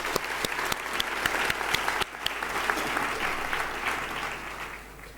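Applause at a University of Johannesburg graduation ceremony, a sustained, even round of clapping from a large seated audience in a hall, steady throughout with no talk.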